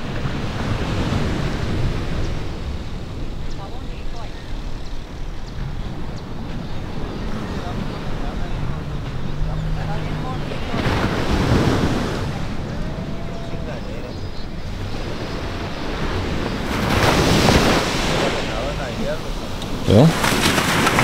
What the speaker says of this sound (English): here's Sayulita Beach.